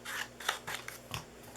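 Scissors snip through paper for a Halloween craft treat box, several quiet crisp cuts in an uneven sequence close by.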